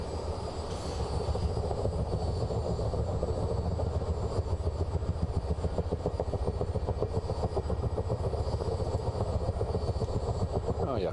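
Chinook CH-47 tandem-rotor helicopter in Microsoft Flight Simulator, a steady loud engine drone with fast rhythmic rotor chop throughout, no speech.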